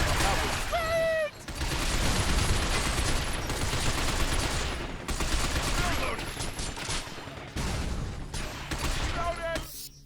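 Sustained automatic gunfire in the shooter game Binary Domain, with rapid bursts rattling almost continuously, brief pauses, and mechanical clanks and metallic pings mixed in.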